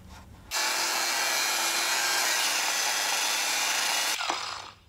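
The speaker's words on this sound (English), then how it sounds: "I only got about half of the thickness of the nut ground off" A power grinder cutting into a steel nut on an Oliver plow, a loud continuous abrasive whine held for about four seconds before stopping abruptly and spinning down.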